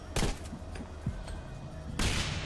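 Grenade launcher fire in the game Singularity: several muffled booming shots and thuds against constant background noise, with a sharper, heavier blast near the end.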